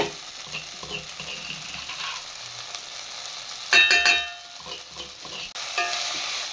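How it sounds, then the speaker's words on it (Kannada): Curry leaves and garlic frying in hot oil for a village-style pepper rasam, a steady soft sizzle with one brief louder crackle and stirring clatter in the middle. "ಇದನ್ನು ಫ್ರೈ ಮಾಡ್ಕೊಳ್ಳಿ, ಹಸಿ ವಾಸನೆ ಹೋಗೋದು ಆಯಿಲಲ್ಲಿ"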